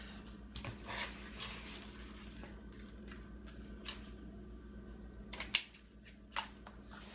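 Scissors snip through ribbon while an outdoor Christmas window sill swag is assembled, a few sharp separate cuts spread over several seconds with light handling rustles between them, close and without speech.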